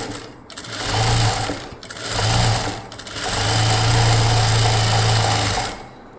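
A sewing machine stitches piping onto fabric in three bursts, two short runs and then a longer steady one, its loud rapid whir and needle clatter close up.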